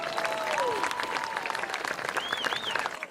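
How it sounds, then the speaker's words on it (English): A football stadium crowd at a high school game applauds steadily and loudly for the full stretch, with whistles and cheers rising over the clapping. "we'll give him a round of applause tonight"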